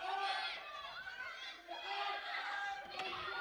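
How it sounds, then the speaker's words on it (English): A crowd at an obstacle-course championship grows rowdy, with a steady murmur of cheering and shouting voices under a commentator's talk. "The crowd gets rowdy."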